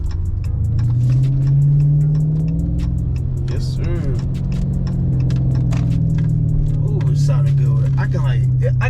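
A Chrysler 300S engine idles and rumbles loudly through 4.5-inch exhaust tips, with scattered sharp crackles and pops from the exhaust over the low drone.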